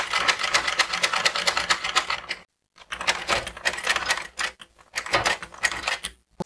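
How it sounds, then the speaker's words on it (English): A sewing machine topstitches a fabric peplum hem with crinoline braid, giving rapid rhythmic clattering bursts separated by short pauses, close and clear with no talking. "So I'll just continue stitching."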